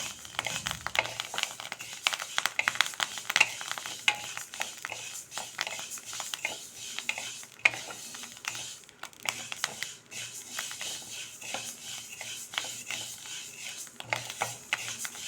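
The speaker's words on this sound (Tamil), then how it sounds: "ஒயிட் ஒயிட்டாக பொரிய ஆரம்பிச்சிருக்காங்க" Ragi grains roast in a pan, popping and crackling in rapid irregular bursts with dry scraping stirring over a soft steady hiss, close and moderately quiet.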